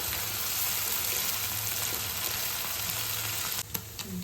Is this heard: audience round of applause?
no